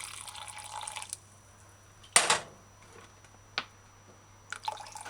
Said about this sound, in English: Add in the cup 1 cup water.